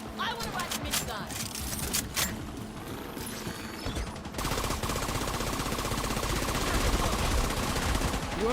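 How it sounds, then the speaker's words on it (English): Minigun firing in an online shooter game, a sustained rapid rattling burst that starts partway through and continues loudly to the end, preceded by scattered game noises and a voice talking. "I want to ride the minigun."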